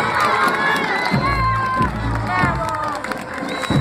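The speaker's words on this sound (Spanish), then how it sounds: "Fuerte el aplauso, señoras y señores." A crowd at a school parade cheers and shouts, with children's voices high and excited over a dense, loud roar of the gathered spectators.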